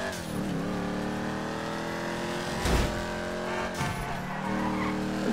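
A budget sports car in GTA 5, its engine droning steadily with shifting revs, a couple of brief tyre squeals or skids cutting through, loud and up close, with no talk.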